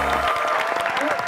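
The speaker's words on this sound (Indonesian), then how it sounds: "Oke, tepuk tangan buat Piwi dan Nelson." Brief burst of audience clapping for two contestants on an Indonesian game show, dense and steady over a low hum, lasting only a moment.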